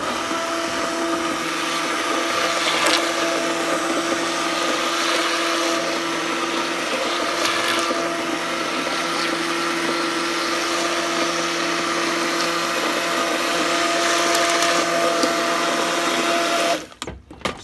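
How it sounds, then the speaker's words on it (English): Cuisinart Smart Stick immersion blender running steadily through hot pepper sauce made with ghost peppers and Carolina Reapers, a loud continuous whirring motor buzz lasting the whole stretch before cutting off abruptly near the end. "we'll just turn this on, press the button, and get this blended up"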